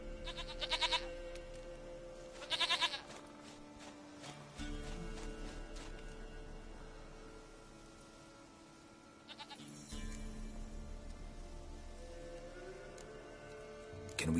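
A goat bleats in The Witcher 3, heard as a few short, fairly faint bleats spread apart over quiet game ambience, with no talk.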